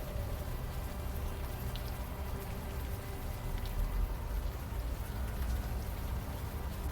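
Warm rain falls in the video game Unavowed: a soft, steady hiss of drops that runs faint and continuous for several seconds, with no voices.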